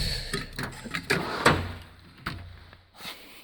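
A junk drawer in a tool control toolbox slides open with a few scrapes and clunks, followed by quieter rattles of small items inside, close by and without speech.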